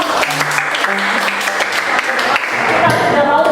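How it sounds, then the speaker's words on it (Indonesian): A classroom group claps together for a few seconds, a fairly loud burst of applause with some tonal background sounds mixed in. "Tepuk tangan dulu ya."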